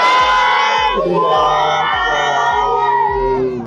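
A group at a Sikh family gathering celebrating a newborn daughter shouts the answering call to the Bole So Nihal jaikara. The voices ring out loud and close in unison, with a steady rhythmic thump running underneath.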